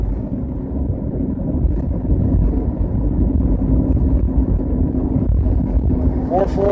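Car driving along a road with steady low engine rumble and road noise, a faint whine rising near the end.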